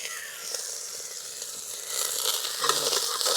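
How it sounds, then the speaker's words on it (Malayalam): Curry leaves hit hot oil with popping mustard seeds in an outdoor forest kitchen, producing a soft sizzle that swells louder partway through, with occasional faint crackles. "എന്താ കരിയാപ്പില ഇട്ടിട്ടുണ്ട്."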